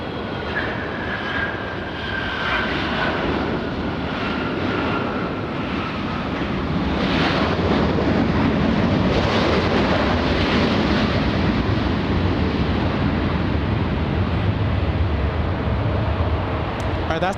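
A Boeing 757-200 airliner lands at LAX, its engines a broad, loud steady roar that swells slightly midway, mixed with wind buffeting on the microphone.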